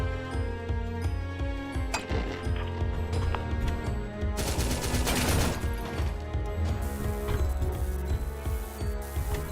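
Rapid SMG gunfire in a PC indie shooter, dense bursts of fast shots over a busy game soundtrack, with a louder stretch of sustained firing midway.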